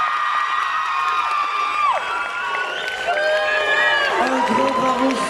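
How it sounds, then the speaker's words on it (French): An audience at the Vannes Sekai Festival 2024 cheers for cosplayers, with continuous whoops and shouted calls layered over a crowd roar that stays loud and close throughout. "Vous pouvez applaudir tous nos cosplayers, applaudissez-les bien fort."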